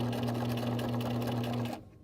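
A sewing machine stitches along the edge of a bag in a steady, close, even hum that runs unbroken for under two seconds, then stops abruptly.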